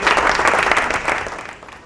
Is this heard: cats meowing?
no